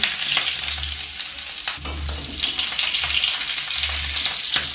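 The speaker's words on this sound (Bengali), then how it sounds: "এদিকে চিংড়ি মাছটা আর একটু ভাজা হতে থাক" Prawns fry steadily in hot oil for a sarson chingri (mustard prawn) dish, giving a loud, continuous close-up sizzle with a few soft stirring bumps throughout.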